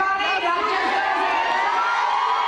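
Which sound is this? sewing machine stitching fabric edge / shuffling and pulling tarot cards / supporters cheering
supporters cheering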